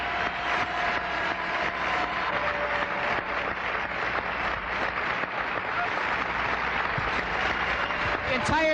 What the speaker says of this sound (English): Let's listen to the applause.